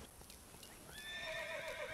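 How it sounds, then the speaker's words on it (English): Horses in a video game stable neigh and whinny, with a high shrill call rising in the second half over a faint background murmur and no talk. "someone needs to tell these horses to calm down. Seriously, man, stop screaming all the time."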